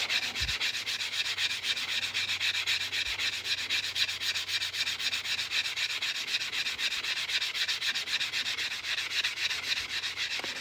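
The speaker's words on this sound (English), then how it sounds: "It's just a nail file block, and you can just rub on that cut edge until it's super smooth." Steady, continuous rasping as the cut edge of a 2008 90% silver proof half dollar coin ring is rubbed on a nail file block, even back-and-forth scraping held close for about ten seconds without speech.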